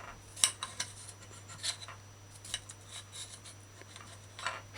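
A dull kitchen knife slices paprika into strips on a chopping board, giving a series of irregular, close, crisp cuts and taps against the board, each short and separated by brief pauses, over a steady low hum.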